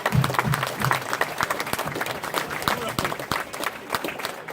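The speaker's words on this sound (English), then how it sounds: "So a round of applause for that." An audience at a tribute presentation for former high school athletes breaks into applause, a steady patter of many claps with distinct sharp hits, and a voice briefly heard at the start.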